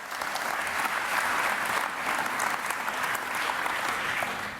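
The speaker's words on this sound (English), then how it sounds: "Give them a round of applause." A summit audience applauds a music-industry panel with steady, even clapping that holds for several seconds before easing off, moderately loud and free of talk.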